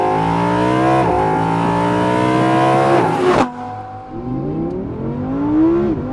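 A 2020 Audi R8 V10 Performance engine screams loudly, pitch climbing in rising sweeps, cutting off sharply, then revving up again; no voices.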